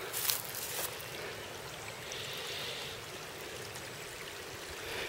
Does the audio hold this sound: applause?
no